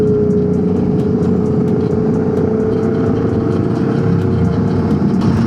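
A Kawasaki ZX motorcycle engine hums steadily and loudly at a constant speed on a road ride, a smooth continuous drone with a faint ticking rhythm above it.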